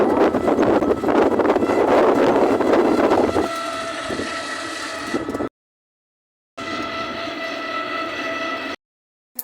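Steady rumbling and rattling of a moving train with wind rushing past, cut by two abrupt silent gaps.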